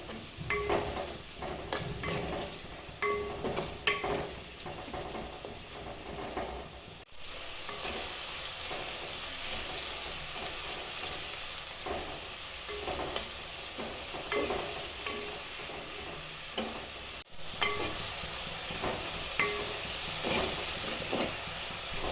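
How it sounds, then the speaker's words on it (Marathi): Onions sizzling with salt in a hot pan, a steady broadband frying hiss with scattered stirring scrapes and clicks throughout, fairly close and without any talk. "मीठ घातलं ना पटकन कांदा परतून होत असतो."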